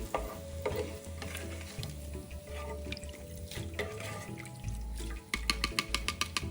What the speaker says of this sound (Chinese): 这油炸过程还很疗愈，有点像过年时炸虾饼一样。